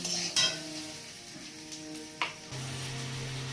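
Potatoes stir-fried in spice paste in a pan, a low steady sizzle with a couple of brief spoon scrapes and clinks, close and quiet, joined by a steady hum in the last second.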